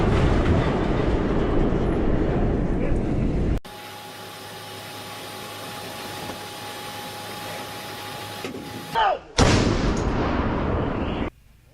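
A D-20 towed 152mm howitzer firing: a long, heavy rumbling blast fills the opening seconds, then a quieter hissing stretch, followed by another loud sharp report near the end, booming and close.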